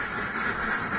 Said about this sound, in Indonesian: Bebek ya.